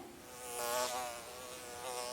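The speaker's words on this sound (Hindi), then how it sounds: "फूलों के बगान में मुझे एक सुंदर सी मधुमक्खी दिखाई दे रही है" A bee buzzing in a flower garden, a thin continuous whine that swells louder as it passes close and then drifts off, fairly faint, alone with no talking.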